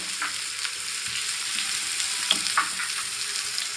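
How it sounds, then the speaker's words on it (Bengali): Chopped onion frying in oil with panch phoron, a dense, steady sizzle close up with a few light stirring scrapes and clicks from a utensil. "সেই পেঁয়াজটাকে আমি দিয়ে দিচ্ছি তেলের মধ্যে। নিয়ে এটা খুব ভালোভাবে আমি ভেজে নিচ্ছি।"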